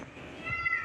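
A pet cat lets out a single short, faint meow, rising near the end of a quiet moment.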